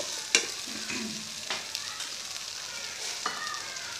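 Halwa being roasted and stirred in a pan, a soft continuous scraping and faint sizzle with a few sharper spoon clicks, heard close and alone.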